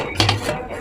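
A metal idli steamer pot with stacked plates is handled, giving a couple of quick close metallic clinks and rattles in a brief burst.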